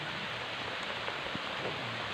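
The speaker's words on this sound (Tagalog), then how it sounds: "Umuulan na na eh." Steady rain hisses evenly throughout, a dense, constant patter with no pauses.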